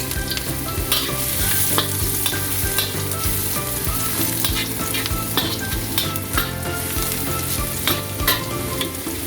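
Garlic sautés in hot oil in a pan for chicken afritada, a loud close sizzle with frequent clacking stirs and scrapes of the spatula, busy and continuous with no talking.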